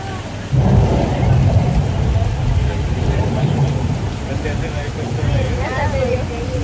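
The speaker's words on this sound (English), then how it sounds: "grab your thunder buddy because we got some rain" Steady rain and a low thunder rumble during a Universal Studios tour fill the clip as a dense, continuous wash of noise, with a voice speaking over it.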